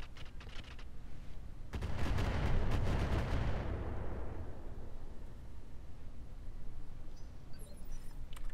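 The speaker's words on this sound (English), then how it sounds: "So we'll go ahead and drop the incendiaries on him." Incendiary weapons fired at a mech in the game Roguetech, a loud burst of explosive, artillery-like blasts that swells into a rumbling roar and slowly fades over several seconds.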